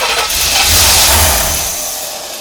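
A 1985 C4 Corvette V8 runs rough and won't settle into an idle, a close, uneven engine note that swells briefly as if revved and then sags back.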